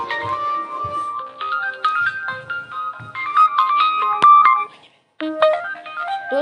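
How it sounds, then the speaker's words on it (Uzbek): A phone ringtone from an incoming call plays a bright electronic melody for several seconds, dropping out briefly before starting again, loud and close with no talk over it. "kimdir telefon qilib qo'ydi"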